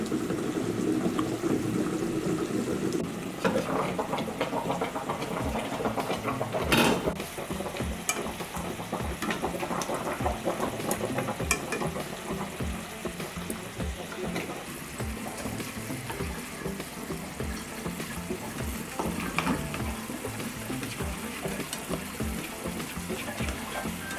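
A mushroom and leek cream sauce bubbles and reduces in a pan, giving a steady, close simmering hiss with occasional stirring scrapes and faint liquid burbles throughout.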